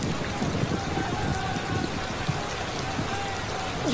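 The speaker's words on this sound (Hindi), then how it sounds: "बारिश आ गई।" Rain falls in an outdoor drama scene as a soft, even patter and hiss, continuous and moderately quiet throughout with no talking.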